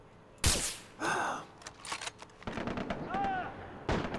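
A single sharp gunshot rings out in the jungle shooter Far Cry 3, followed by in-game effects, grunts and further scattered booms at moderate loudness.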